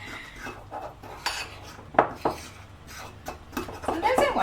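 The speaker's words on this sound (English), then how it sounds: "And it says give this a whisk until pale and thick." Cake batter whisked in a bowl while baking at home, with close irregular clinks and scrapes of metal against the bowl and faint background noise.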